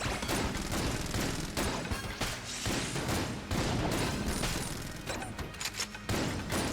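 Dense, continuous gunfire in the video game Enter the Gungeon: rapid, loud, overlapping shots and impacts rattling without pause throughout.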